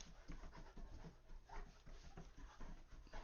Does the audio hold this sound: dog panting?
yes